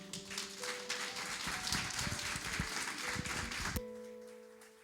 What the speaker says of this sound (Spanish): ¿Por qué no le damos un fuerte aplauso a nuestro Dios?